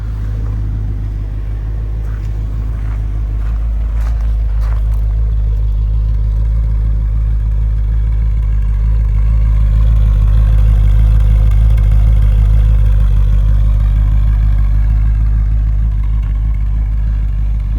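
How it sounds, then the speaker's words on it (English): A 1975 Mercedes-Benz 450SLC with its stock exhaust and original manifolds idles steadily, a deep continuous rumble with a faint rise in the middle, close by and with no voices. "Nice sound for the stock exhaust."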